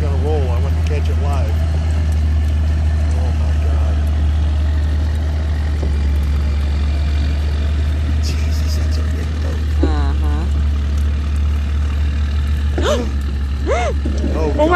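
Low, steady engine drone of a motorboat running nearby, with excited voices talking over it.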